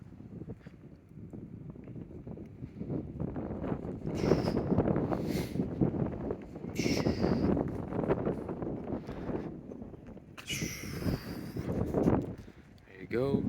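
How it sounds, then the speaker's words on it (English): Strong gusting wind buffets the microphone outdoors beside a 1976 Pontiac Firebird Formula, a continuous low roar with surges throughout, under someone talking. "It's pretty windy today as well, so hopefully the audio is not too bad."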